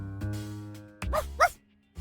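A dog barks in a video game, giving a few short yips and a sharp bark over a sustained musical tone, with brief gaps between the barks and no talk.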